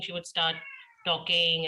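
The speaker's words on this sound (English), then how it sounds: "that's my cat meowing." A house cat meows loudly and close by, drawn-out tonal calls rising and falling, overlapping a woman's speech.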